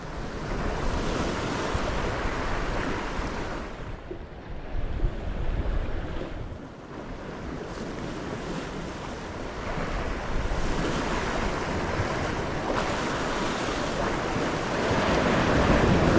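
Waves break continuously on a shore at dawn, with a loud, steady wash of surf, gusting wind and wind buffeting on the microphone.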